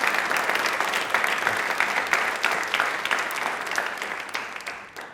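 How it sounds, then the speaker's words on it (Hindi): A studio audience at a televised quiz show applauds steadily, a thick, even clatter of many hands that fades out over a few seconds. "इसलिए तालियां एक बार पश्चिम बंगाल के लिए जोर से बजा दीजिए।"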